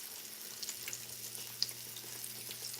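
Pork chops fry in Crisco vegetable oil, a quiet, steady sizzle with faint crackles and a few sharper pops, heard alone at low level.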